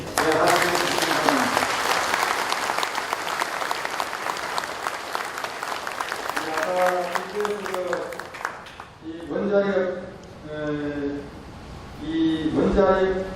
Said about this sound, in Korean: 함께 여러분 박수로 하시겠습니다.